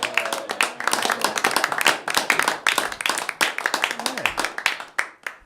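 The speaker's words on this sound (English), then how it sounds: "That was exactly the correct amount of applause for me." Crowd applause greets a comedian taking the stage at a comedy show, with dense, energetic clapping that holds steady and then tapers off near the end, with voices mixed in.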